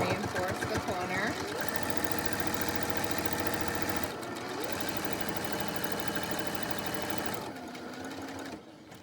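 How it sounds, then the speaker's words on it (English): A sewing machine stitches around the corners of a cloth mask, whirring steadily and close, with a short break partway and a change in pitch near the end. "So you just sew your 4 corners in."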